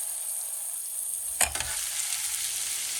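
Garlic sizzling in oil in a paella pan for pork shoulder paella, a steady hiss broken by one brief scrape and thump as it is stirred and spread around.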